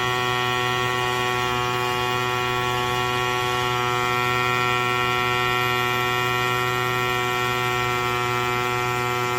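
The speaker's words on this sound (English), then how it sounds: "we're going to do this just to see if this little pump will do it" Fanttik X10 Ace mini electric bike pump inflating a tire, a loud, steady, high-pitched motor drone running without break from start to finish, close up and with no talking.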